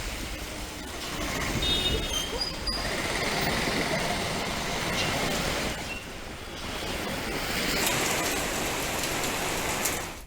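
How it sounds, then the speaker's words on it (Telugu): Heavy rain falls across Hyderabad with a dense, steady patter and hiss that swells and eases slightly, heard from a moderate distance without voices. "నగరంలో పలు ప్రాంతాల్లో వర్షం దంచి కొడుతోంది"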